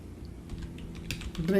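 Short burst of typing on a computer keyboard as a file name is entered in GIS software, a quick run of close, light key clicks with quiet room tone.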